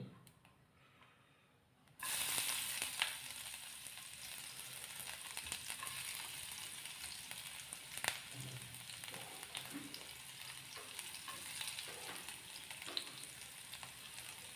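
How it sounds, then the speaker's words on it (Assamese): After a quiet moment, a sharp sizzle erupts as chopped onions hit hot oil, then continues as steady frying crackle with occasional stirring scrapes. "নহৰুখিনি দি ভালদৰে অলপ ভাজি ল'ম"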